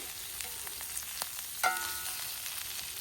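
Brunch frying in a single pan over an open fire outdoors, a steady soft sizzle with faint crackles and a brief louder clatter midway, no voices.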